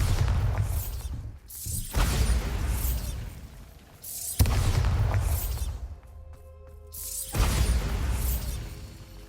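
Bombarda explosion spell cast in the video game Hogwarts Legacy, with several loud, booming blasts and crackling bursts one after another, mixed over game ambience and tonal effects.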